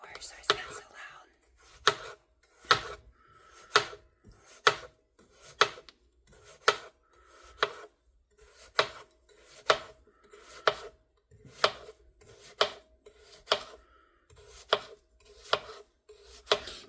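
Knife slicing a burpless cucumber into rounds on a cutting board, a steady series of sharp, evenly spaced chops close up, with quiet whispered talk in the background.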